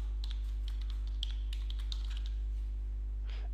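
Soft, scattered key clicks from typing a description on a computer keyboard, quiet and close against a steady low electrical hum, with no talking.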